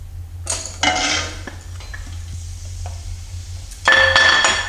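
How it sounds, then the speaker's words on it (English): Onions dropped into hot oil in a pan for a homemade spaghetti meat sauce, bursts of loud sizzling and metallic pan clatter over a low hum, with a second strong sizzle near the end. "So now that the oil is heated, we will add the onions."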